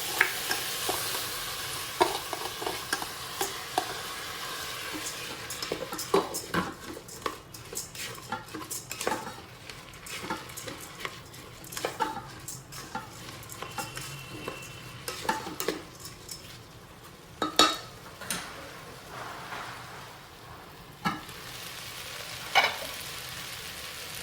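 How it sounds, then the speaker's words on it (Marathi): Soaked Indrayani rice is sautéed in a rice cooker pot for matar pulav, with a low sizzle under frequent scraping, clattering spoon strokes and metallic knocks that come in uneven bursts. "तांदूळ सुद्धा परतला गेला आहे।"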